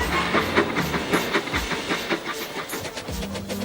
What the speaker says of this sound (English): The breakdown train! Quickly!